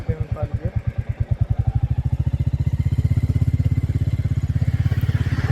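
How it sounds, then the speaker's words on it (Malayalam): A 350 motorcycle with the new J-series engine starts close by, its firing beats quickening briefly before settling into a steady, even thump at idle. "അപ്പോൾ നമുക്ക് വാഹനം ഈ സ്വിച്ചിൽ സ്റ്റാർട്ട് ചെയ്യാം."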